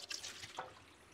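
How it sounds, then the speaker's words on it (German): Water poured off from a bucket holding aquarium fish: a brief, close splashing gush that fades out within about a second, with no talking. "ich gieße noch ein bisschen was von dem Wasser ab, damit ich die leichter bekomme"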